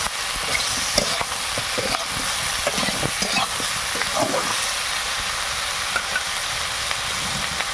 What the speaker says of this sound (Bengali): পরিমাণ মতন হলুদ দিয়ে মা আবার নাড়াতে শুরু করে দিয়েছে